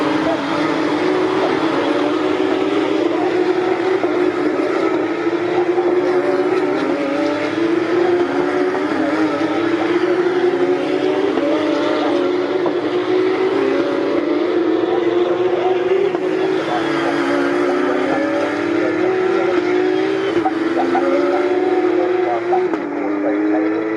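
Porsche Carrera Cup race cars at full speed at Snetterton circuit, engines howling continuously with rising and falling pitch as they pass through gears, loud and sustained with commentary voices over the top.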